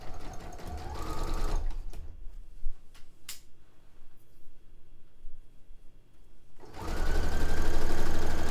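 A sewing machine stitches a dress made from bed sheets, running in loud steady bursts at the start and end with a quieter pause of faint clicks and handling in between.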